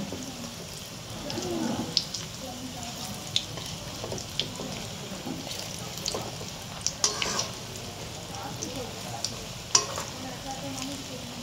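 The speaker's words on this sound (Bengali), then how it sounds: "আমি এবার একটা একটা করে তেলে ছেড়ে দিচ্ছি।" Semolina snacks deep-fry in oil over medium heat, a steady moderate bubbling sizzle with occasional sharp clicks and pops, fairly close, with no talking.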